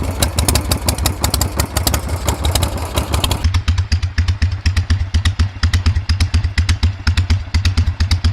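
A Harley-Davidson Evo 1340 V-twin motorcycle engine runs steadily nearby with a loping, rhythmic exhaust pulse, louder and harsher at first, then settling into a lower idle-like thump.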